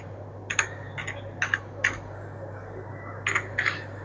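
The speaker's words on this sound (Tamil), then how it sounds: "இதில் போர்னியோ ஸ்கீமேட்டிக் டைப் பண்ணுறேன்." Keys on a computer keyboard are tapped in small irregular clusters of clicks over a steady low background hum, fairly close and light, with no voices.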